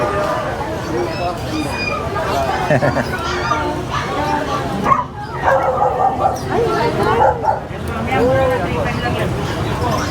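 Several dogs, poodles among them, bark and yip almost without pause inside a pet shop, with some whimpering and a busy background of human voices and chatter.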